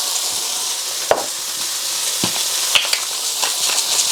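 Beef and onions sizzle loudly in a very hot wok with salt and black pepper, a continuous bright hiss broken by a few sharp clacks of a utensil stirring, close and without talk.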